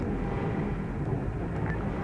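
Helicopter in the military shooter ArmA 3, a steady, dense engine and rotor drone that holds at constant loudness for two seconds with no talk over it.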